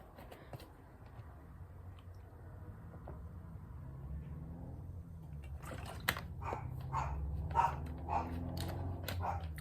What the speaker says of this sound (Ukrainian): у мене є пес, який от там гавкою